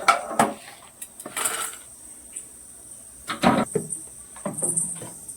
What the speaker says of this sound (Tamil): அதை எடுத்து தட்டில் கொட்டலாம்